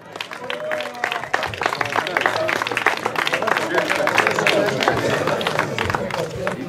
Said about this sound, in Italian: Un applauso per il terzo classificato Caruso